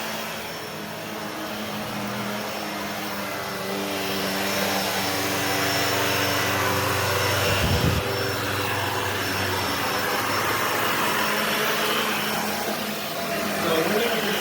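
A Shark Lift-Away ZU560 vacuum cleaner with a self-cleaning brushroll runs in a room, giving a steady, loud whooshing roar with a faint high whine and a brief shift in tone partway through.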